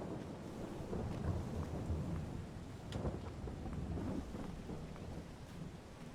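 Steady rain pours down with rolling thunder rumbling through in Farming Simulator, a dense, unbroken wash of downpour with low booms swelling beneath it, no voices.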